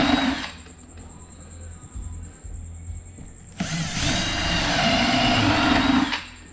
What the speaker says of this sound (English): we'll drop some holes in here for our